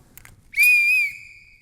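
One sharp, bright referee-style whistle blast, lasting about half a second and fading into a brief tail, heard alone in a quiet keynote hall.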